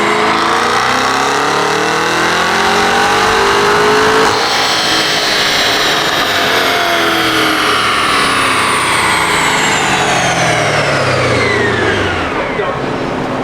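A Cadillac CT5-V Blackwing with a ported supercharger roars on a dyno, one long loud sustained pull with supercharger whine climbing through the gears before easing off near the end.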